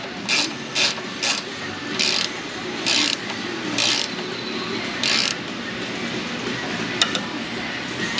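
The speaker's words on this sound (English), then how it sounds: "We'll just tighten it down by hand." A nut on the steering of a 2000 Nissan Frontier 3.3 4x4 is tightened by hand, with a ratchet-like clicking repeated in about eight short, evenly spaced bursts, close and clear over a low background.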